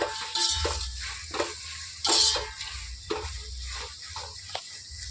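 Curry leaves and ginger garlic paste being stirred in a pan for chicken dum biryani. Intermittent scraping and clicking strokes sound close by over a faint, low sizzle.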